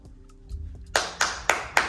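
Four sharp hand claps in a steady rhythm, loud and close, following a short stretch of quiet room noise and faint murmur.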